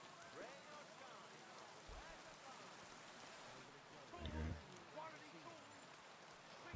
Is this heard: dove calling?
no